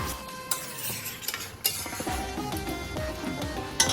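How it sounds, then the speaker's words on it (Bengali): Marinated mutton is fried and stirred in a pan for mutton curry, with close, moderate sizzling and repeated scraping and clinking of a spatula against the pan. "এরপর আমি মাটনটাকে ভালো করে কষাবো।"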